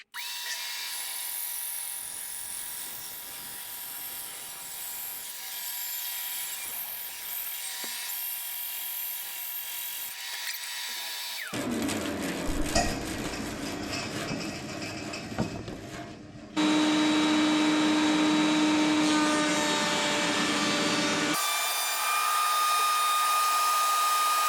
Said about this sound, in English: We'll run these through the planer,